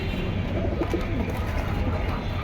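Pigeons coo steadily and close by at a pigeon sale, a continuous low murmur of birds with no talking.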